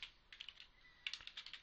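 Typing on a computer keyboard, two quick bursts of light clicking keystrokes separated by a short pause, quiet and close.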